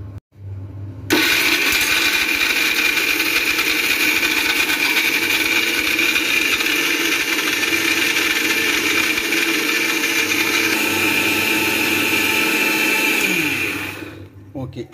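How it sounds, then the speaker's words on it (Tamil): A kitchen mixer grinder blends coconut and poppy seeds into a fine paste for a crab kurma, giving a loud, steady motor whir that starts abruptly, runs without pause for about thirteen seconds, then winds down. "தேங்காய் கசகசா இது நல்லா நைஸ் அரைச்சிடலாம்"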